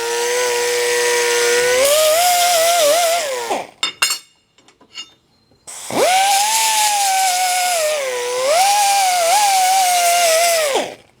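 Angle grinder working a steel sawmill part, a loud close whine that rises and dips as the disc bites, cutting off for a few seconds of clinks before starting up again.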